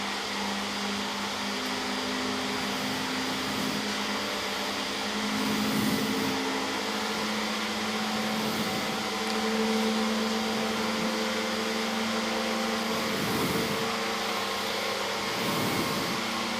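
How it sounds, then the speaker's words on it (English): The motor and Alexanderson alternator at the SAQ Grimeton longwave station spool up with a steady, whining mechanical drone and a slowly rising hum, faint from mid-distance, with periodic surges over a constant background roar and no speech. "you can now hear the speed of the motor and alternator increasing"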